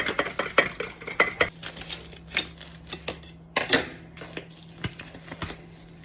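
An egg being whisked with a fork in a bowl while making cheese, chilli and bacon sausage rolls: quick, sharp clinking taps of metal on the bowl, irregular and close, with a faint steady hum behind.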